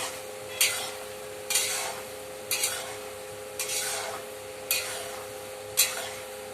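Onions frying in a pan for beresta to top a home-style biryani, a steady crackle under six evenly spaced stirring scrapes about a second apart, close and clear with no talk.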